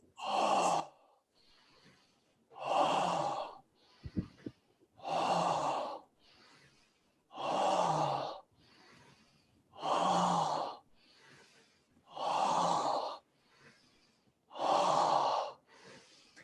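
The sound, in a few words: breathing in through nose, out through mouth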